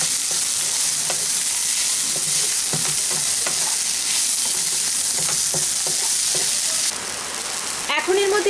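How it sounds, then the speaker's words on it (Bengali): Spices with turmeric and cumin stirred in a hot pan, giving a continuous close sizzle and frying crackle with repeated soft scraping strokes, which thins out near the end after a clatter. "ভালো করে মশলাগুলো মিশিয়ে নেব।"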